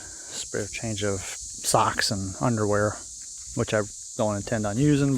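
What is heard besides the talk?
cicadas singing in hot weather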